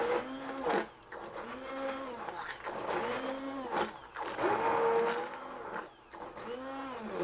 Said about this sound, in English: And now I'm going to liquidize, and I like a hand blender.